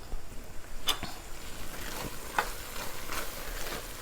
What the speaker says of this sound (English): Stir this.